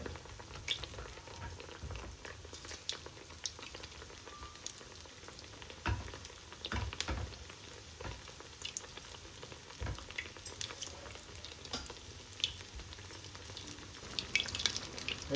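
Ridge gourd and cheese fritters fry in hot oil, a steady faint crackling sizzle with scattered pops and bubbling throughout, heard alone without talk.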